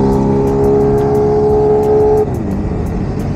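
Kawasaki Z900 superbike engine running loud and close with a steady drone, then the pitch drops as the rider eases off the throttle.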